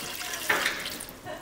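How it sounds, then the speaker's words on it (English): Water runs from a tap into a container during hide tanning preparation, a soft steady hiss with a brief splashing surge, close and fairly quiet. "Throw some water"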